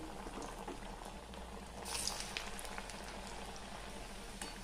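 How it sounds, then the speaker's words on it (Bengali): Flattened onion fritters (piyaji) bubbling in hot oil over a medium-high gas flame, a steady dense crackle and fizz throughout, briefly swelling louder midway as more batter goes in. "গ্যাসের ফ্লেম মিডিয়াম টু হাই রেখে এই চ্যাপটা করে রাখা পেঁয়াজিগুলো ছেড়ে দেব।"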